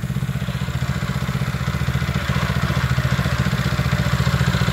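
A Bilt Hard 173cc small engine, the same as a Harbor Freight Predator, runs on a repowered DR trimmer mower, chugging steadily with a loud, rapid rhythmic putter and mechanical clatter throughout, with no talking.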